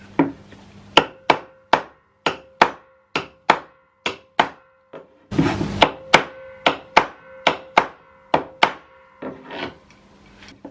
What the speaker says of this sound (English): hammer them a little bit so that they get a bit more round